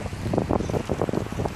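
Gusty wind buffets the microphone in uneven rumbling bursts, loud and close, with no voices.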